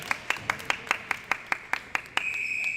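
Sparse clapping at a women's netball game between Ontario and BC at the Canadian Netball Nationals: about a dozen distinct claps in a steady rhythm, fairly faint, ending in a brief sustained tone.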